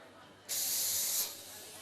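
An espresso machine steam wand purges dry steam in one sharp, loud hiss lasting under a second, then falls back to quiet room noise.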